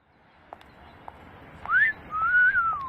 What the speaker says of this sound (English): So we're gonna go ahead and get started first with wolf whistle